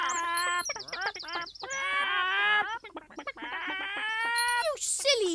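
Cartoon hens cluck and squawk in a busy, overlapping flock, loud and close with rapid broken calls, ending in a brief flurry of higher squawks.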